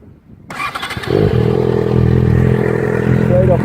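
A Yamaha XJ6 motorcycle fitted with a Leo Vince exhaust cranks and fires up after a short silence, then settles into a loud, steady idle with a low, throaty rumble close by.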